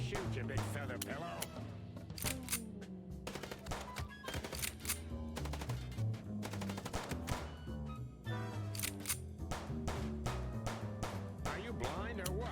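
Rapid gunfire in a shootout in the video game Chicken Police, dense bursts of sharp shots crackling almost continuously, mixed with speech.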